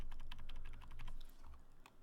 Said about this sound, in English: Nudge, nudge, nudge with my arrow keys.